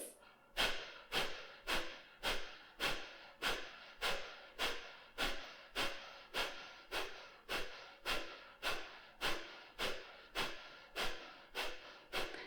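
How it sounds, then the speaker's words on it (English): Sharp, forceful kapalbhati exhales through the nose repeat at a quick, even pace, about twenty close, loud bursts in a row with brief quiet between them. "start with 30 sharp exhales"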